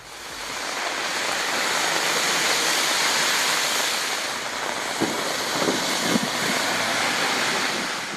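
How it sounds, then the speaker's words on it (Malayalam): Summer rain pours down in Palakkad after a long dry spell, a loud, broad, steady wash of falling water that swells and ebbs slightly, with a few faint knocks toward the end and no voices. "വരണ്ട മണ്ണിനൊപ്പം മനസ്സും തണുപ്പിച്ച വേനൽ മഴ."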